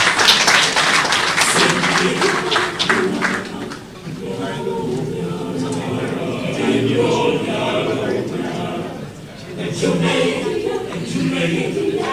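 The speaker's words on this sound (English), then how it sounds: "A round of applause for you." An audience applauds at a political party media gathering, with a burst of hand claps early on that fades under continuous loud voices.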